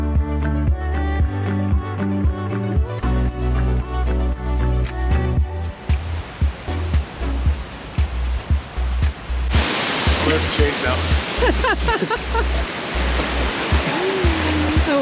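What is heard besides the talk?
powerful waterfall in the Columbia River Gorge, Oregon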